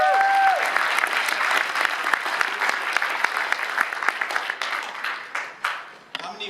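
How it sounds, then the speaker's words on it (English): An audience at a Velocity 2016 tech conference in Santa Clara applauds, dense clapping that thins out into a few scattered final claps, heard up close. "Give it up for David"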